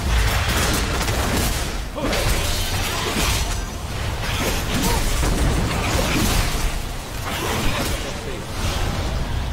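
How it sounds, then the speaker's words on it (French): Grenades detonating in a World of Warcraft boss fight against Valeria during the Horrific Vision of Stormwind, with an arms warrior in melee: a dense, loud run of crashing booms and shattering bursts, packed with whooshes and combat noise, with faint talk underneath. "Là, elle va bientôt faire pop ses grenades."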